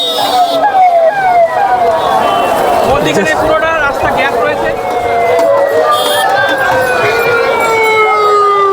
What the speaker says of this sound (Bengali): এরকম অ্যাম্বুলেন্স আসছে সবাই ছাড় দিয়ে দিচ্ছে